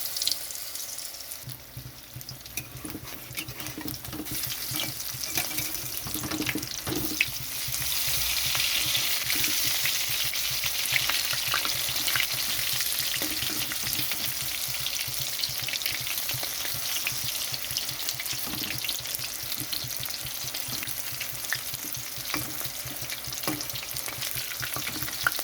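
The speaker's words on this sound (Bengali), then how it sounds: "কড়াইতে সাদা তেলটা গরম হয়ে গেছে, তো আমি এখন ভাজার জন্য তেলের মধ্যে দিয়ে দিচ্ছি।" Battered cabbage pieces for chilli cabbage frying in hot white oil in a wok, a loud continuous bubbling sizzle that swells as more pieces go in, with occasional stirring clicks.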